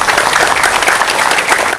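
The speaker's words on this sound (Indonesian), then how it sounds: "Tepuk tangan untuk Pak Nanang." A crowd at a groundbreaking ceremony for a BPBD emergency operations building in Lampung Selatan applauds loudly, with dense, sustained clapping that stops abruptly at the end.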